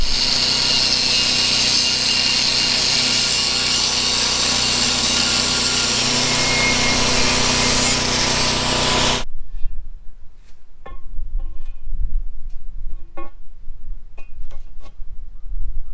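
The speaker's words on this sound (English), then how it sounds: "we're gonna take the angle grinder and chop off one end of it" Angle grinder cutting through the end of a metal H-brace for a buffalo fence, a loud sustained grinding whine for about nine seconds that cuts off abruptly, followed by faint clinks and handling noises.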